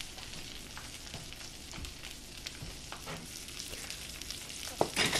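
Salmon skin frying in a pan before flipping, for a salmon and egg omelette, a soft steady sizzle that stays close, low and even, with a few light clinks near the end and no talking.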